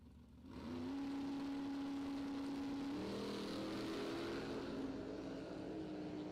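Drag racing car at a bracket racing event launching and accelerating hard down the track, a loud sustained engine roar rising in pitch with a gear change midway, heard from trackside.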